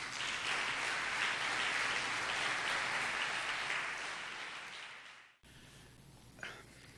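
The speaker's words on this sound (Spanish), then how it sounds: "Un aplauso, por favor." Audience members at a Managua event opening at the Alliance Française applaud in a steady, moderately loud wash of clapping for about five seconds, fading and then stopping abruptly, followed by quiet room noise and a brief faint sound.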